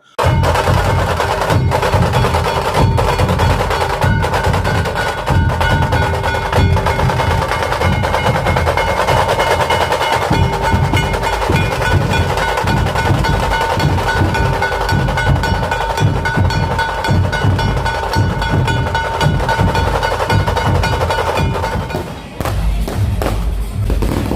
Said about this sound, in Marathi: पुणेरी ढोल तर एक नंबर असे वाजत होते